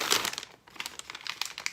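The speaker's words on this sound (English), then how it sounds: "So I'm gonna place the tip into the bag." Close, crisp crinkling of a plastic pastry bag as a piping tip is placed inside, a quick burst followed by a series of lighter rustles.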